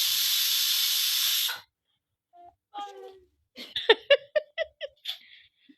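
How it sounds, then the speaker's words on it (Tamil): A loud pressure cooker whistle hisses steadily for about a second and a half, then cuts off, followed by a short stretch of whining and yelping from an animal nearby. "எப்படி பயந்து பயப்படுது பார்த்தீங்களா குக்கர் விசிலுக்கு?"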